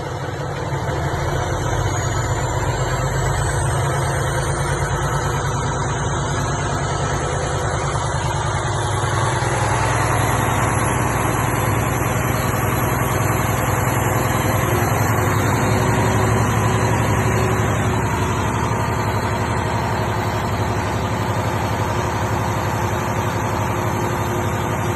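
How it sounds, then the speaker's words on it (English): A truck engine is held at about 1400 RPM to fill the air brake tanks during a CDL pre-trip inspection, producing a steady, continuous rumbling drone with a faint high whine above it. "bring it up to 1400 RPMs and fill your air tank"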